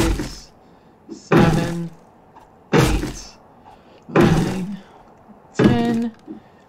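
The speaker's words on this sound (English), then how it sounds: "let's see how many hits it takes to destroy this tree" Five heavy, evenly spaced thuds as a tree is struck repeatedly in the survival video game 7 Days to Die, each hit loud and close with a brief woody knock.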